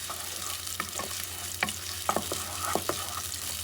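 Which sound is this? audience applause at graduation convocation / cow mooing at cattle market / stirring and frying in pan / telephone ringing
stirring and frying in pan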